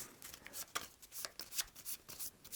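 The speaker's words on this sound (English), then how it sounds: "We'll shuffle up our world deck again" A deck of game cards for a board game campaign is shuffled by hand in a quick series of riffling, snapping bursts, close and crisp with no talk.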